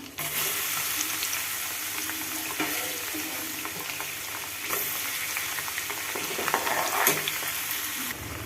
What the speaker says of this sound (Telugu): గోల్డెన్ కలర్లో వచ్చేలాగే వేయించుకుందాం